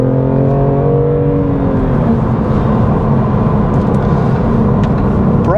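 A BMW M2 Competition's engine pulls hard in a held gear, a loud, close droning growl with rising harmonics that settles into a dense, steady roar of tyre and road noise.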